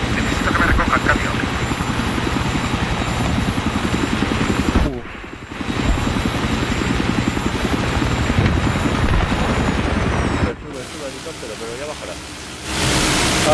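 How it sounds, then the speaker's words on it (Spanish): Helicopter rotors in Battlefield 3 on the Aftermath map, a loud continuous chopping drone close by that cuts out briefly twice, with voices talking over it. "Está reparando el helicóptero seguramente"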